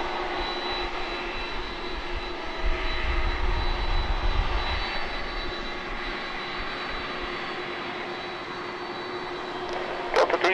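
A Delta Boeing 767 holds on the runway, its jet engines giving a steady, moderately distant whine and low rumble that stays even throughout, with no voices.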